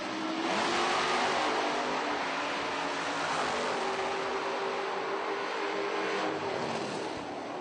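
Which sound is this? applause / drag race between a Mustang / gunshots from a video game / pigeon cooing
drag race between a Mustang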